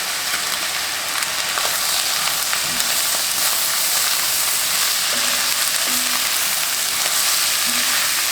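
Garlic frying in a pan ahead of a steamed pork bun filling, a steady close sizzle with faint crackles and stirring scrapes running the whole time, no voices.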